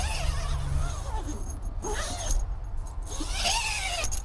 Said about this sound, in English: That's the zipper for that.